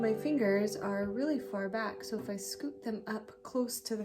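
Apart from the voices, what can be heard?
No distinct noise like a dog, phone or traffic.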